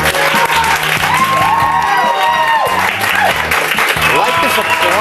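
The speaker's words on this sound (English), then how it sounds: "Like this applause thing." A television studio audience bursts into sustained applause with cheering and whoops, steady and loud throughout, mixed with background music.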